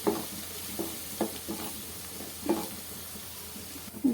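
Marinated country chicken frying in a pan and being stirred, a soft steady sizzle broken by several scraping stirs of a spoon at uneven intervals, fairly quiet and close.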